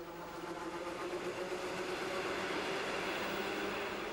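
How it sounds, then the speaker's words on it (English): A passenger train at a remote railway station in a snowy forest in the Soviet Union gives a steady, continuous mid-distance rumble of wheels and engine with no breaks. "About once a month, this train takes Tatiana to the city to keep in touch with the family"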